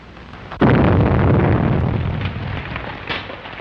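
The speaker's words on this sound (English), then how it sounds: "Explosion in 93 Madeira Drive." A single loud, close explosion from a 1938 crime thriller at 93 Madeira Drive bursts suddenly and then rumbles on with a long, gradually fading roar.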